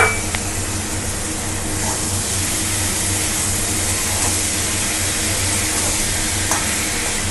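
Mutton fat rubbed with salt and turmeric frying in a pan, a steady, dense sizzle with faint stirring scrapes, close and continuous with no talk.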